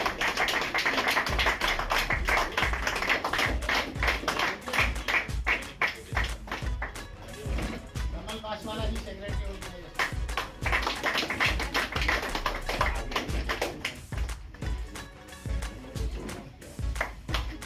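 Long, hearty applause from an indoor crowd of LIC SC/ST Buddhist employees offering congratulations at a Constitution Day planning gathering; dense, continuous clapping with sharp individual claps standing out, briefly thinning midway before swelling again.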